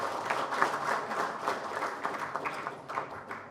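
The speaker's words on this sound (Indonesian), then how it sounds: "Tepuk tangan untuk teman-teman media." Scattered applause at a political party press conference in Indonesia, moderate and somewhat distant, with uneven claps rising and falling for a few seconds.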